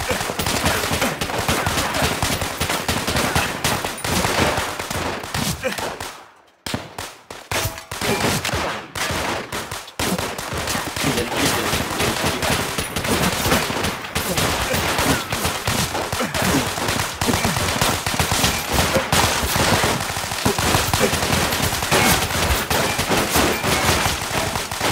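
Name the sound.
gunfire in Call of Duty World at War video game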